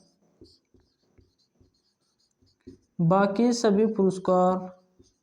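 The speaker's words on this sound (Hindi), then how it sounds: "यहीं पर एक लाइन और लिख लेंगे" Short, faint marker or chalk strokes tap and scratch on a classroom board in an evenly spaced series, then a teacher's voice speaks loudly close by, drowning out the board.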